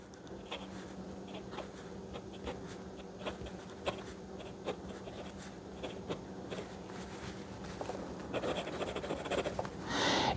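Steel nib of a Hero 8007 fountain pen writing on paper with eel ink, a soft steady scratching with brief strokes and taps, faint and close, growing busier and louder toward the end.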